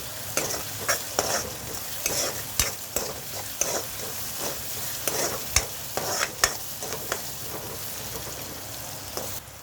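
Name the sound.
vegetables being sautéed with salt in a pan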